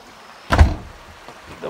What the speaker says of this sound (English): I'll just close the door behind us here